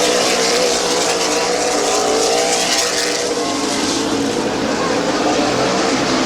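Stock cars race at Midvale Speedway, a loud continuous roar of several engines that barely varies in level, with a race commentator's voice under the engine noise.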